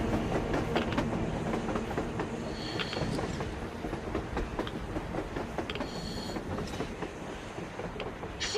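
Train rumbling past in the video game Metro Exodus, with continuous rhythmic clickety-clack of wheels on rails, metallic squeals and clanks, loud and sustained throughout.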